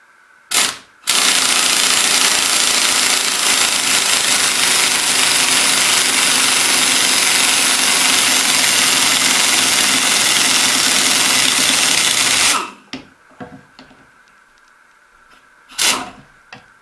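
A power tool drives a bolt during a chain hoist installation: one quick burst, then about eleven seconds of loud, steady whirring that cuts off abruptly, followed by a final short burst.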